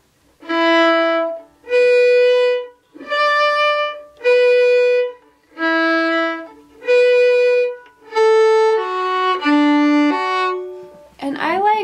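Up close, a lone fiddle plays two measures of the reel Drowsy Maggie slowly, with evenly spaced bowed notes that run into a quicker, slurred run near the end.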